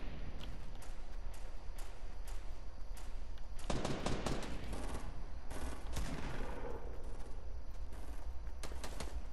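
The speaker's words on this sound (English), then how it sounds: "The one's a grenade launcher." Weapons fire in a Fortnite squad match, including a grenade launcher, with rapid close shots and heavier thumping bursts layered over constant game background noise.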